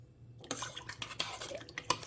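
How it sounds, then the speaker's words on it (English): Quiet, close kitchen sounds as coconut milk is stirred into a pot, with a scattering of soft spoon clinks and scrapes against the pot and a faint low hum underneath. "we're going to stir it in and cover"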